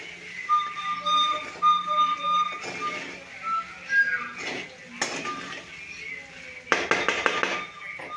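Sabudana khichdi with potato is stirred in a pan, with a spoon clinking and scraping against the metal in irregular bursts. Soft whistling tones sound in the background.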